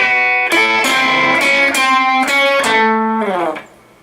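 A short electric guitar lick from a country song rings out as a run of picked, bent and slid notes ending on a slide, with a slightly driven tone, then decays into quiet.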